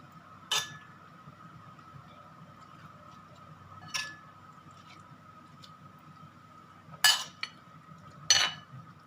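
A spoon stirs a bowl of Thai-style beef tripe salad, giving four sharp, separate clinks spaced a few seconds apart over a quiet background hum.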